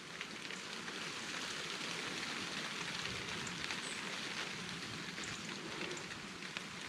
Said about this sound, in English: I love the sound of the rain on the forest canopy